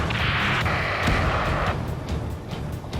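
A rocket explosion in the jet combat game Ace Combat 7, a loud close rumbling boom with a rushing roar that holds for over a second and then fades into a lower churning tail, with no voices.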